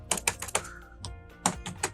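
Someone types on a computer keyboard while working in Premiere Pro, producing a quick run of close, crisp key clicks, a short pause, then a few more taps.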